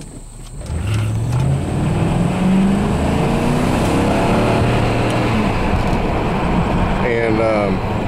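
A 1997 Lincoln car accelerates on the road, its engine note rising loudly and steadily from low to higher pitch under heavy cabin road rumble, with a brief tonal squeal near the end.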